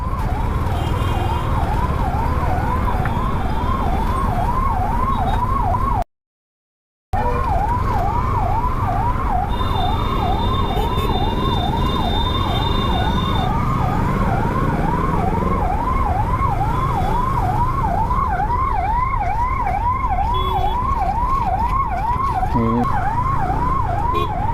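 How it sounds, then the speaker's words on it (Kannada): A wailing siren fitted on a traffic police motorbike in Davanagere sweeps up and down in a fast, steady cycle, loud and close, with a short gap and then a second tone briefly joining in. "ಬೈಕಲ್ಲಿ ಹಾಕೊಂಡಿರೋದು ಸೈರನ್ನ, ಯಾಕೆ?"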